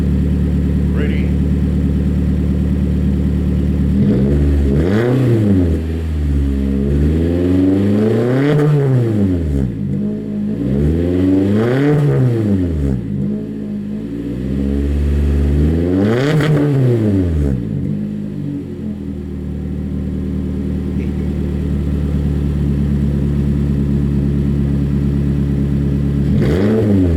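A 2020 Toyota Corolla LE exhaust idles, then revs sharply four times in succession, each rise and fall clear and close, before settling back to a steady idle.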